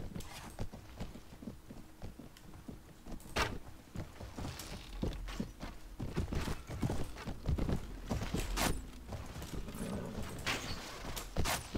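Horse hooves clip-clopping in Mount & Blade: Warband with the Floris mod, a steady run of hoof thuds mixed with scattered clanks and knocks of battle, fairly loud and continuous with no talk.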